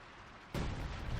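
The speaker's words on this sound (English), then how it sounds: "Using the coordinated fire operations apparently on the Sheer Panzer headquarters" A coordinated-fire artillery barrage in the real-time strategy game Company of Heroes 2, aimed at a Schwerer Panzer headquarters, arriving as one sudden heavy boom that rolls straight into more rumbling impacts.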